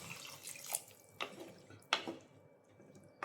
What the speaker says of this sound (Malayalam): ഇനി ഇതിലേക്ക് 1/2 കപ്പ് വെള്ളം